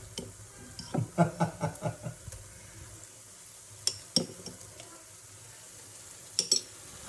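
Eggs frying in a pan as bagoong shrimp paste is stirred in, with bursts of utensil scraping and clinking over a low sizzle, quiet between strokes and busier near the start.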